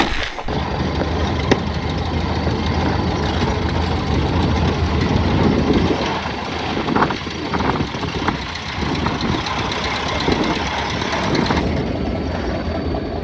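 A 4x4 restomod truck engine rumbles steadily at close range, a continuous idle-like drone with faint clunks and knocks over its length.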